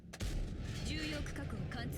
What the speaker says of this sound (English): Hopefully we can shoot HE at this guy.